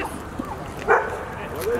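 A dog at a May Day ICE protest in Portland, Oregon, gives a short bark or yip under the close, constant talk of people on the street.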